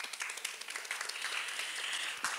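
An audience applauds at a business presentation and market-forecast panel, a dense, even wash of many hands clapping that holds steady for a couple of seconds.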